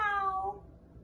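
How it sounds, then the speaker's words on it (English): A single drawn-out meow, clear and close, falling in pitch before fading into quiet. "That sounds like a cat, said Dragon."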